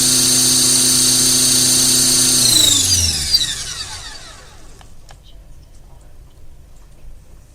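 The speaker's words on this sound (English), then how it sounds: "Other than that, the motor sounds great." A small Xtreme Productions Spin 4000 kV electric model motor whines at high speed close by, then spins down, its pitch falling until only faint clicks remain.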